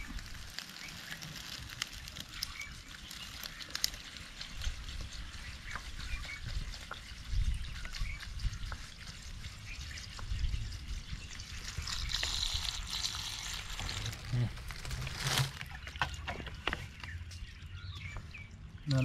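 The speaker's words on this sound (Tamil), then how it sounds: "தண்ணி ஊற்று." Water is poured to rinse ingredients for homemade natural red wine, a steady splashing, trickling pour that runs throughout with occasional clatter and bumps.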